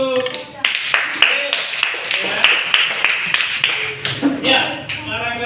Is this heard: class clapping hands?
yes